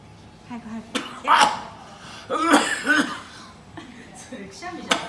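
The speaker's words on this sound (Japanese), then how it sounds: "それくしゃみじゃなくて咳じゃん。" Several sharp coughs burst out during a playful timed challenge, close by and mixed with excited voices and chuckling between them.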